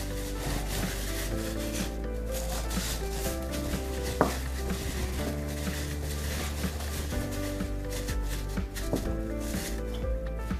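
Chicken marinade for lo mein being mixed in a bowl, a continuous wet rubbing and slapping of hands or utensil through the meat, steady and close with a few sharper knocks, no talk.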